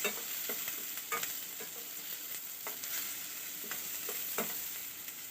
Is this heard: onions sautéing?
yes